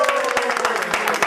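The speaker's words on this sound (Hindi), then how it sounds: "तालिया।" A studio audience at a comedy show claps, producing a dense, steady burst of applause with a few voices mixed in.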